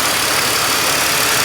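A BMW E46 engine idles with a steady, even rumble, close and constant throughout, with no voices.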